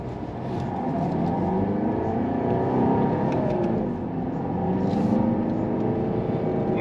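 A Volvo V40 engine accelerates from inside the car, a steady rising whir and hum building through the gears, fairly loud and continuous, with no talking.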